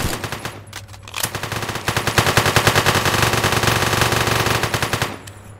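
Rapid automatic gunfire from the game One Armed Robber, a loud sustained burst of closely spaced shots lasting several seconds after a couple of single cracks, then stopping abruptly.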